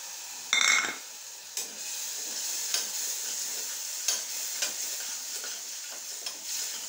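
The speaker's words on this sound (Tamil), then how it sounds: "இப்போ இதை நல்லா வதக்கும் போது தக்காளியை பேஸ்ட்டாக அடித்து வச்சதை ஊற்றிடணும்." Capsicum chicken gravy sautés in a pan with tomato paste, a continuous soft hiss broken by repeated sharp clacks of a spoon stirring against the pan.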